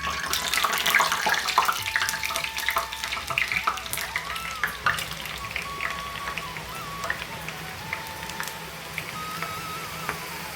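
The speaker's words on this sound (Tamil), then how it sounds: "இப்போ சலசலப்பு லேசாக அடங்கிச்சுக்கோங்க" Omapodi dough frying in hot oil, a steady dense sizzle and crackle with faint splashy bubbling that eases slightly over time, close and continuous with no talk.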